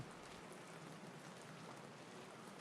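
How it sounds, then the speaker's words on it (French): Steady rain pattering against a bedroom window pane, a soft continuous hiss of drops at low volume with no other sounds. "voilà la pluie qui frappe au carreau de la chambre."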